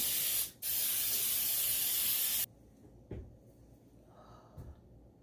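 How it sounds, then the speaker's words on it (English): A loud, steady aerosol spray of Baker's Joy baking spray onto cake pans hisses for a couple of seconds with a brief pause, then stops, followed by a few soft clunks and taps nearby. "I'm going to spray my cake pans with a little Baker's Joy so that my cake doesn't stick"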